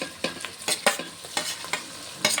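Chukkakura (sorrel leaves) and tomatoes fry in a pan for pulao, stirred with quick, irregular scraping strokes over a soft, continuous sizzle, heard close.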